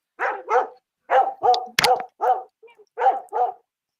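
A dog barks about nine times in short, close pairs and clusters with brief pauses between. The barks are loud and near, and there is no talk.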